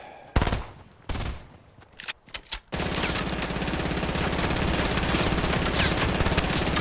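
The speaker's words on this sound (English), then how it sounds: "What the hell is he shooting at? Why is he shooting at that?" Gunfire in Fortnite: a few loud, separate shots ring out, then a dense sustained burst of rapid fire fills the rest of the clip.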